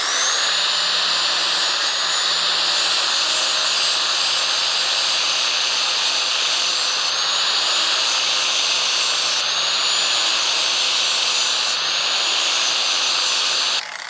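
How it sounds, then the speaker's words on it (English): Plug-in angle grinder with a flat disc sharpening a lawn mower blade: a loud, steady high-pitched whine with grinding hiss, running continuously and close up without pause. "I did go ahead and go to my plug-in grinder because it's so much more powerful than that cheap battery one"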